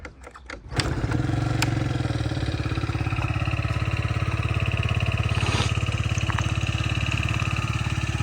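A Yamaha Jog SA36 fuel-injected scooter engine starts with a few sputters, then idles steadily and close by, a continuous buzzing drone with no talking.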